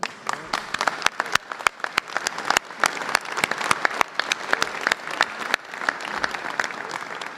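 Round of applause in a room at a governor's pension reform bill signing: many sharp, distinct claps from a modest crowd, sustained and fairly close, with no talk over it.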